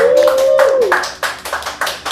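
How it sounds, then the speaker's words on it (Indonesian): A handful of sharp, close hand claps on a horror-themed talk show, coming in quick succession after a brief tonal sound. "tepuk tangan semua para hantu"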